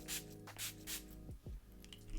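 Makeup setting spray infused with coconut water misting in strong bursts, several hissing sprays close by in quick succession indoors, with a faint rattle between them.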